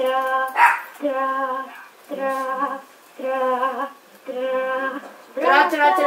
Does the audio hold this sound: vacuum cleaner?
no